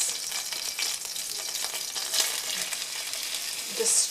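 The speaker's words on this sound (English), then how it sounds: "I have some coconut oil sizzling in the pan, and now I'm going to add about 250 grams of beef mince" Beef mince sizzles and fries in hot coconut oil in a pan, a steady crackling hiss with occasional louder pops, close and alone without talk.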